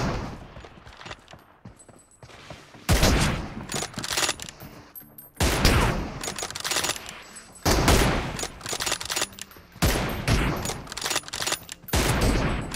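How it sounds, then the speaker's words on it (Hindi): Heavy overlapping gunfire from two guns in the mobile battle-royale game BGMI, loud dense bursts and sustained automatic volleys with brief lulls between them, close and continuous. "वो दो गन चला रहा है"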